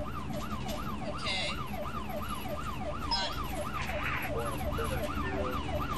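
A wailing ambulance siren rises and falls rapidly and continuously over traffic noise, fairly close, with brief bursts of other sounds.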